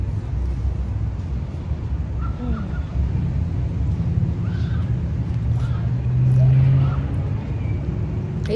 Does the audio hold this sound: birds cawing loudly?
yes